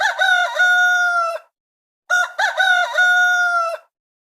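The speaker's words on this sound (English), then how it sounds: "Rooster." A rooster crows loudly and close by, two long drawn-out cock-a-doodle-doo calls separated by a short pause, rich and harmonic with no other sound.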